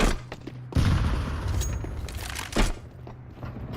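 A grenade blast in Counter-Strike 2 hits as a loud broadband boom, followed by a rumbling tail and another heavy thump, with scattered gunfire-like cracks around it.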